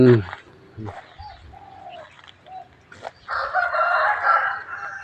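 Chickens call nearby on temple grounds at Wat Pong Chai, Chae Hom, Lampang, with a rooster crowing near the end over soft clucking and cooing in the background.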